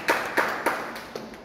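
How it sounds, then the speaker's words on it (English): A church youth congregation gathered indoors claps hands in a few sharp, evenly spaced claps, fairly close and clear, with a faint room echo and no talking over them. "Give a mighty hand clap"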